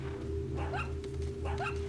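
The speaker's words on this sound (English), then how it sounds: "There's the dog." A dog in the Resident Evil 4 video game gives two short, yappy barks about three-quarters of a second apart, heard over a steady low background hum and drone.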